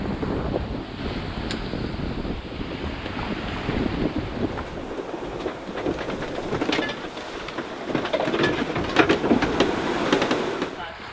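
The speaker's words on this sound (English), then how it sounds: "the wind picked up from 8 to 12 knots to close to 30 knots in the space of about 15 minutes" Strong wind of close to 30 knots buffets a sailboat at sea among waves, a steady, loud roar of gusting wind noise with splashing water throughout.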